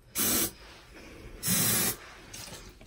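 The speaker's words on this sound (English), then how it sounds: "now we're going to take our friend Mr. Hairspray" Hairspray hisses from an aerosol can onto hair in two firm bursts, the second longer, with a faint third puff trailing off at the end, close and alone with no talking.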